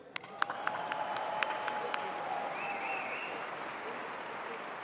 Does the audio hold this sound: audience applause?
yes